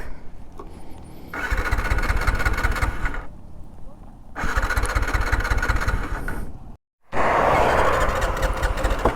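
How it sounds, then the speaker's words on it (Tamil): A TVS Apache RTR 180 motorcycle's electric self-starter cranks without the engine catching: three loud, close, whirring bursts of a few seconds each, separated by short pauses. "கடைசியாக ஒரு டைம் ஆச்சு ஸ்டார்ட் பண்ணி பார்க்கலாம்."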